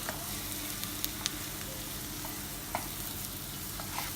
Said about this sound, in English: Give that a good stir.